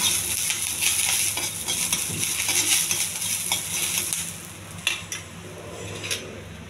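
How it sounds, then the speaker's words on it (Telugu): Mustard seeds, chana dal and dried red chillies frying in oil, a bright steady crackle and sizzle with faint popping and a few metallic clinks of a utensil against the pan near the end. "కొన్ని ఆవాలు, ఎండుమిర్చి, ఇవన్నీ కొంచెం త్వరగా వేగనివ్వాలి"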